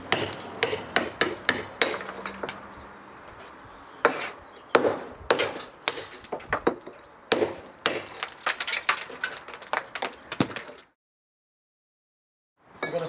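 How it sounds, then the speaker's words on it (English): Hammer and chisel knocking out damaged house bricks, a run of sharp, irregular metallic strikes and chips close by, alone, ending in a brief silence before one more hit. "Now to chisel them out."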